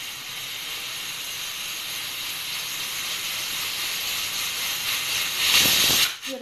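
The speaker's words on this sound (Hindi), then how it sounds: "यहाँ पे हमारी जो पहली सीटी है वो आने वाली है" A pressure cooker boiling sweet corn on a medium gas flame gives off a steady, close steam hiss that swells louder near the end as the whistle builds, then cuts off abruptly.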